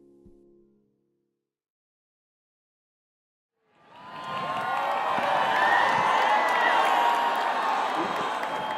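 Sustained crowd applause and cheering for honorary degree recipients at a 2018 spring university commencement in Michigan, rising after a brief pause and holding loud and steady for about five seconds.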